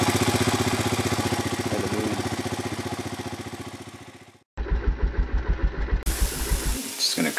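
A 1985 Honda ATC 250SX three-wheeler with an oil leak climbs a hill in second gear. Its engine pulses loudly and rhythmically up close, drops out briefly, then returns with a chugging beat.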